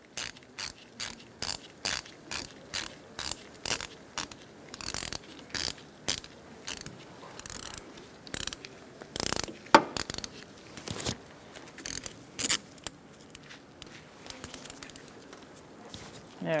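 A ratchet clicks in short, rhythmic bursts as engine mount studs are tightened on a Ford Focus, each pass a quick run of close, crisp pawl ticks with brief pauses between strokes.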